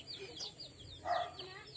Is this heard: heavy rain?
no